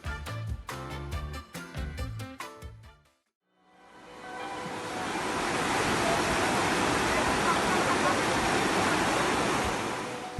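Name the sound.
floodwaters rushing through city streets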